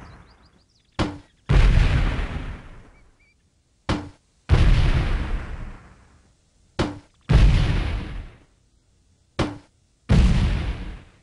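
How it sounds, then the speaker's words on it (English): Grenade launcher explosions in the military shooter Delta Force 2: five loud, sharp booms, each preceded by a short pop and followed by a long decaying rumble, spaced roughly every two to three seconds. "I'm just gonna go ahead and use the grenade launcher to try and thin out the herd a little."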